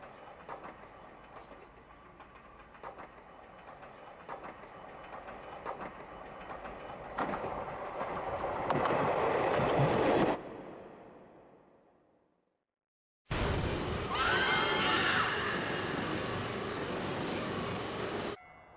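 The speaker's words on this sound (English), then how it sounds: "express train is passing" An express train rushes through a station in an anime film, a steady rolling rumble with rhythmic clatter that swells loud, cuts to a brief silence, then returns at full roar.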